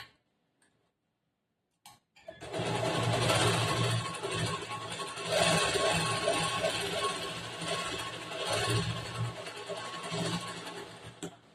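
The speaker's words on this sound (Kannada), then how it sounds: "ರಫ್ ಮಾಡಿ ಇದರ ಮಧ್ಯದಲ್ಲಿ ಇನ್ನೊಂದು ಹೊಲಿಗೆ ಹಾಕ್ತೀನಿ." After a near-silent start, a sewing machine stitches blouse lining in a long continuous run, its needle ticking rapidly and evenly as the motor hums close by for about nine seconds.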